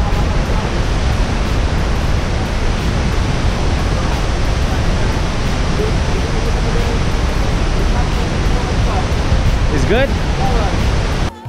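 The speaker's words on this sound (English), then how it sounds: "Here's the waterfalls." A waterfall near rice terraces rushes loud and constant, a dense hiss of falling water filling the whole stretch, with a brief spoken question near the end.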